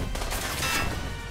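Gunfire bursts from a mech battle in the video game Front Mission 1st Remake, a short rapid volley of loud, crackling shots close up.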